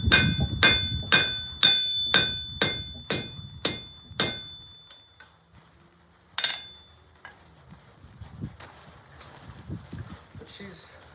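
A blacksmith's rounding hammer strikes an axe-shaped piece of metal in about nine sharp, evenly spaced ringing blows, then falls quieter with a single later strike and faint scraping.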